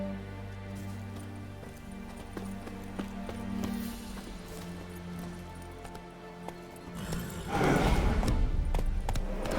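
Horse hooves clip-clop at a steady walking rhythm in The Witcher 3: Wild Hunt, set against soft sustained music, with the hoofbeats growing busier and louder near the end.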